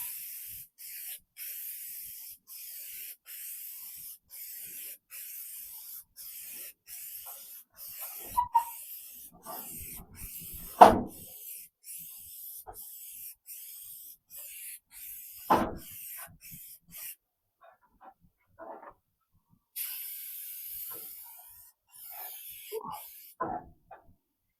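Aerosol spray can coating a car headlight in repeated short bursts, hissing close by with brief pauses between sprays, a few clanks and handling noises, then a longer spray toward the end.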